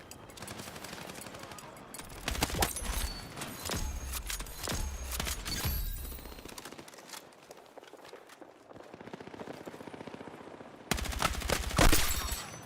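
Rapid automatic gunfire from a heavy-recoil gun in a video game, loud bursts in several clusters separated by quieter stretches of ambient noise.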